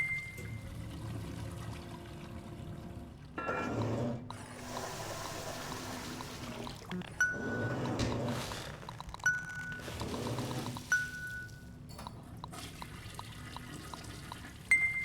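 A toilet flushes in the video game Aperture Desk Job, with gushing water in several surges broken by short pauses and small chime-like dings, moderately loud and without voices.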